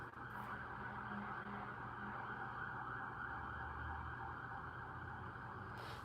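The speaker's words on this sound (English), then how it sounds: "It's like a fire truck and a police car." Fire truck and police car sirens wail in the distance, a faint, steady drone that holds without a break over the whole span, with no one speaking.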